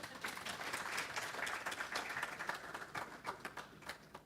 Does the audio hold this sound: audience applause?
yes